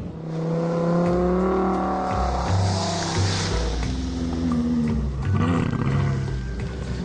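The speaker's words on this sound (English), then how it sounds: "I can just open the throttle wide in second gear, and it doesn't accelerate at all." Lamborghini Gallardo LP560-4 engine droning loudly and steadily on snow at wide-open throttle in second gear, a continuous roar with shifting harmonic tones throughout and no speech.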